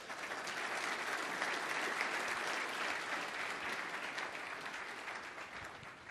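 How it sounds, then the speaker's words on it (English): An audience gives sustained, dense applause for the Citibank team at a corporate event; the clapping stays steady and fairly loud throughout, easing slightly toward the end. "Now, that certainly deserves a very big applause."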